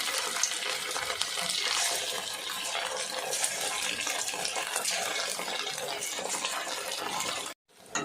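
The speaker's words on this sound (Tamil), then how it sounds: "பாருங்கள், எண்ணெய் காஞ்சிருச்சு, நம்ம வடை போடலாம்." Leftover rice bonda balls deep-frying in a pan of hot oil give a steady, loud, dense crackle and sizzle that runs unbroken for most of the clip, then cuts out abruptly near the end before a brief return.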